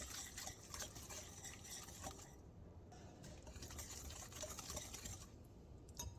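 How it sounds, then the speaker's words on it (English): A whisk beats a beaten egg into purple ube brownie batter, a soft, steady wet stirring and scraping that runs continuously and faintly, with brief pauses. "Now I'm going to add 1 beaten egg, and I'm going to whisk this in"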